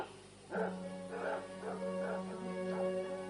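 Several dogs bark and yip in a radio drama, a run of four or five sharp barks over about three seconds at close range, with a steady low hum running underneath.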